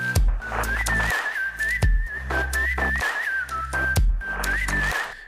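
A whistled melody sample in an electronic dance track drop, a sustained wavering tune carried over a steady kick drum and claps that repeat in a looping rhythm, loud and upfront with no voices.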